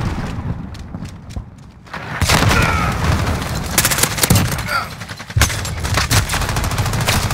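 A grenade blast and gunfire in Call of Duty Modern Warfare team deathmatch: a heavy boom lands at about two seconds, then rapid close shots and bursts crackle on, with a short pause before another volley near the end.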